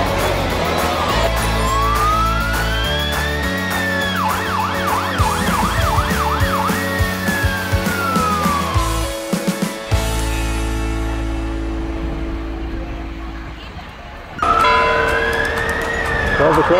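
Police, ambulance and fire truck sirens wailing and yelping in a Christmas street parade in Kalgoorlie, loud and close with rumbling engines, a brief pause, then a siren starting up again.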